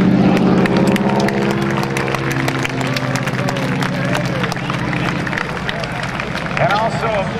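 An airshow crowd claps and cheers for comedian Bill Leff, a dense, sustained ovation with scattered whistles and whoops and an announcer's voice over it.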